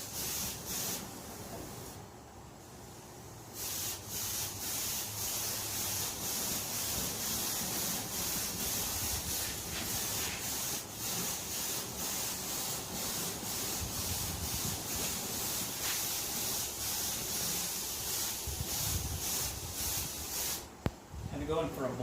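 Steady rubbing and sanding strokes across the patina finish of a 1966 Ford F100 during wet sanding, a continuous close scrubbing texture with a brief air hiss near the end and occasional talk.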